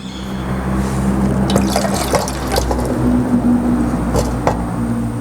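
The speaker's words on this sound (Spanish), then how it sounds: "el agua que drenó la debemos de eliminar." Drained water poured out of the saucer of an indoor plant pot during repotting, a steady close trickling and splashing with faint dripping, no voices.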